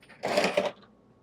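A single short sliding clatter of a soft-close RV drawer rolling open, lasting about half a second before fading into quiet.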